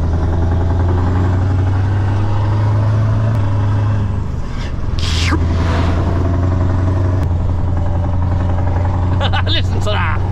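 A deep truck engine rumbles steadily up close through a side exhaust pipe, its exhaust note shifting as it revs, with bursts of hissing air partway through.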